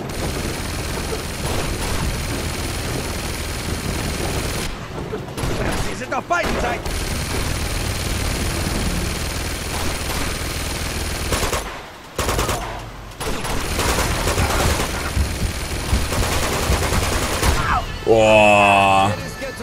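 Mounted gun turret in Uncharted 2: Among Thieves firing loud sustained bursts of rapid automatic fire with booming impacts, broken by short pauses, over game ambience.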